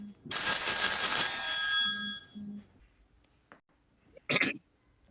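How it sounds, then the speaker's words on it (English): A phone rings with a bright electronic trill lasting about two seconds, followed by a short second burst, close and fairly loud. "his phone's ringing."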